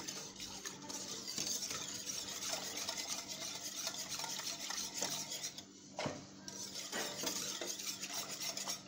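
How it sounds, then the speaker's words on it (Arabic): A spoon stirs a mixture with about a litre of water in it, making quiet, continuous scraping and swishing against the pot. There are occasional clinks of utensils and no voices. "دابا غنضيفو لتر ديال الماء اولا اترو ديال الماء على هذا الخليط بحال هكا، نحاول اني نخلط مزيان هادشي."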